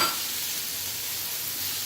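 Canned cannellini beans stirred into a sizzling skillet with pork chops, a steady close hiss of frying with faint stirring underneath, no talk.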